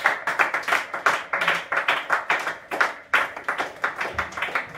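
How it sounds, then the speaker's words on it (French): A church congregation claps together in a quick, steady rhythm to acclaim the Lord, many hands beating in unison, loud and close with no voices over it. "On acclame le Seigneur Jésus-Christ."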